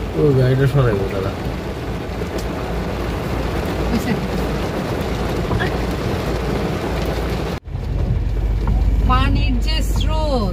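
Heavy rain falls in a loud, constant wash during flooding in Sylhet, while people talk briefly at the start and again near the end, the roar cutting out for an instant partway through.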